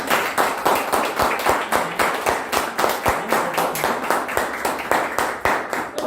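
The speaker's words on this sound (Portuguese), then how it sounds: "Nós vamos dar uma salva de palmas para Jesus," A church congregation claps in sustained, fairly even applause for several seconds, a dense roomful of hands with a steady rhythmic pulse and no talking.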